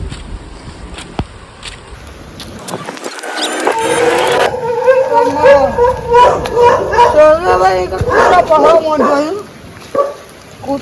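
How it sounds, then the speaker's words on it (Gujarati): A dog barks and yelps several times at close range outdoors, its calls rising over a steady rumble, with a voice heard alongside. "કૂતરો"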